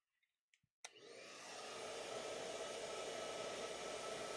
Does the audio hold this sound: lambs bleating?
no